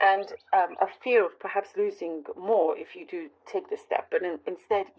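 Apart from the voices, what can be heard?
None of the usual background noises is heard.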